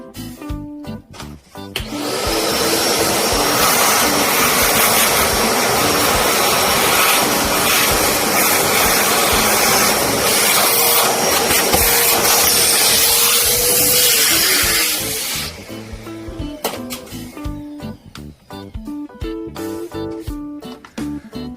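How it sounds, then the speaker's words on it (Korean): A vacuum cleaner roars loud and steady for about thirteen seconds while cleaning out a disassembled Fiorenzato F64E coffee grinder, starting and stopping abruptly, with clattering handling noises before and after. "이 안에도 마찬가지로 청소기로 한번 털어줄 건데"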